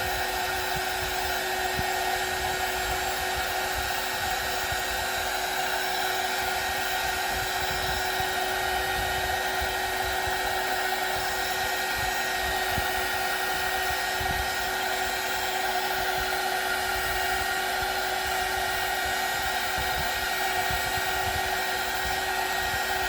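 A hair dryer blows steadily on a watercolor holiday card painting, one loud, unbroken whooshing drone with a high whine that holds at an even level throughout, with no voices.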